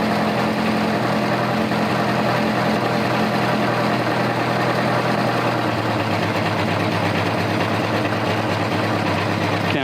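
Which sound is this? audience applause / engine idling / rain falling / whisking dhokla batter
engine idling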